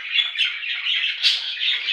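A female budgerigar, about two and a half to three years old, squawks in a home breeding-cage setup, giving a continuous run of loud, shrill, raspy calls close by with no pauses.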